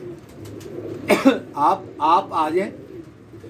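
Pigeons coo nearby in a series of soft, rounded calls, heard alongside someone talking close to the birds.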